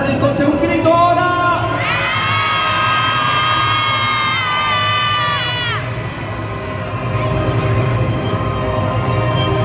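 A crowd of children and adults shouting and cheering at a Megasaurus monster truck show in Palau Sant Jordi arena, a loud sustained roar of voices swelling and then fading after a few seconds.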